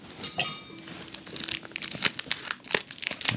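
Cellophane wrap is crinkled and torn off a Tom Ford Tuscan Leather perfume box, a close, busy run of crackling rustles and sharp tearing bursts across a few seconds, with no voice.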